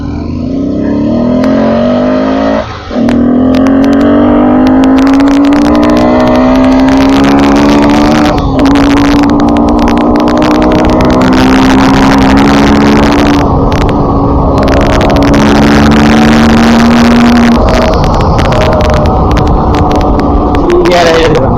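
A Yamaha R15 V3 BS6 motorcycle engine runs close and loud, rising in pitch as it revs, dips briefly, then climbs again in long steady pulls, with voices underneath.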